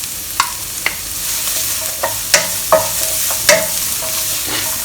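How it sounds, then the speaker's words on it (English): Strips of rehydrated dried Chinese mushroom fry in a hot pan or hotplate with a steady sizzle, punctuated by several sharp spatula scrapes and taps as they are stirred. "Fry them until you can smell it."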